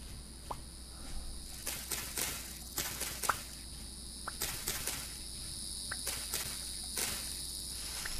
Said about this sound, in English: Sounds like a cicada.